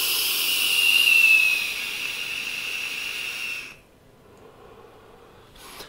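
A Joyetech eGo ONE vape with pre-made coils being drawn on, making a steady airy hiss that swells and then fades for about four seconds before cutting off, close and alone.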